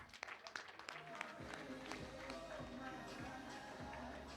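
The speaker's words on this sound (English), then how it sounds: "He deserves a round of applause." An awards ceremony audience at the Ongwediva Annual Trade Fair claps, with scattered taps swelling into fuller, steady applause that is faint and somewhat distant, with a voice murmuring underneath.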